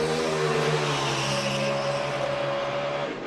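Kyle Busch's NASCAR race car hammering out of the pits at Chicagoland, a loud, sustained engine roar with steady harmonic drone that holds at full volume throughout.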